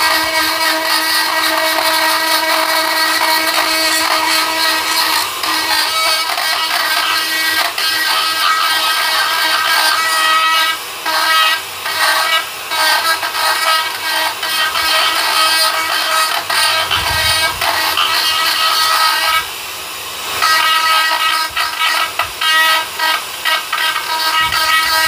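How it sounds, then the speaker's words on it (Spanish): A rotary cleaning burr grinds steadily over the trunk of a dead wild olive tree to smooth it. The whine is loud and continuous, with brief dips and surges in load, and no one speaks. "Luego vamos a utilizar una fresa limpiadora para limpiar, ¿eh? Para alisar un poquito"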